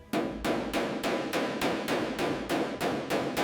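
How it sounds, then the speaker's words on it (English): Hammer on dolly reshaping a curved body panel of an abandoned 1970 Dodge Challenger R/T 426, about a dozen sharp metallic taps at a steady, fairly quick rhythm, close and moderately loud with no talking. "We're using the dolly to support the back as we gently reshape this curve."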